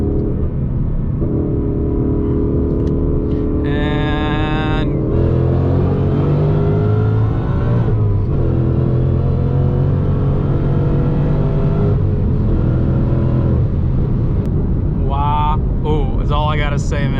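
A supercharged Ford Mustang pulls hard at wide open throttle, engine roar climbing through revs with shifts and supercharger whine, loud and close from inside the car.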